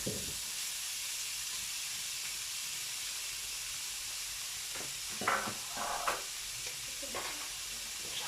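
Ingredients for paella fry in a pan, giving a steady close sizzle and hiss throughout, with a few brief stirring clatters near the end.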